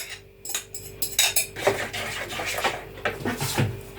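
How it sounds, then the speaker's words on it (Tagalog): Metal utensil clinks and scrapes against a bowl while banana, water or oil, and egg are mixed together, a steady run of close taps and stirring clatter. "Combine ko na po itong banana, water or oil, and egg."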